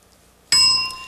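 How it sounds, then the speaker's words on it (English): A single bright bell ding rings out loud and clear to signal the start of a round on a game show, with a sharp strike and a long, slowly fading metallic tone after a brief quiet lead-in. "Mauricio will start when he hears the bell."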